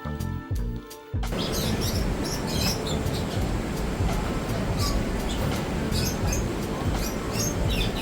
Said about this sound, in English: It's a bunch of birds.